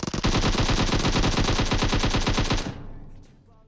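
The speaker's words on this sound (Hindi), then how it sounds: "अब हमारे भाई गन तो कतई जहर वाली चला रहे हैं।" A rapid, loud burst of automatic gunfire from the video game PUBG Mobile, evenly spaced shots rattling for a few seconds before stopping abruptly and trailing off into a faint echo.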